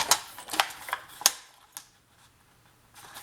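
Sharp crisp strokes and snips on card stock for a handmade pop-up Christmas card, several close quick cuts in the first second and a half, then quiet with a few faint clicks.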